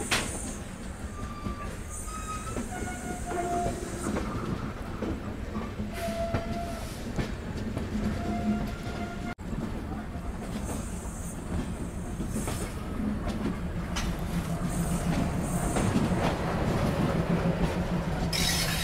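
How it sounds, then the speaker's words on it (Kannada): Murdeshwar SF Express hauled by a WAP-7 locomotive, heard from inside a sleeper coach after leaving Mangaluru Central, with a steady rumble and rolling wheel noise throughout, brief faint tones over it, and no speech. "ನಾವು ಹೊರಟ್ಬಿಟ್ಟಿದ್ದೀವಿ ಮಂಗಳೂರು ಸೆಂಟ್ರಲ್ ರೈಲ್ವೆ ಸ್ಟೇಷನಿಂದ"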